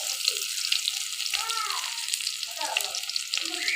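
Raw onion added to browned garlic in hot oil, a continuous close sizzle and bubbling with faint voices murmuring underneath.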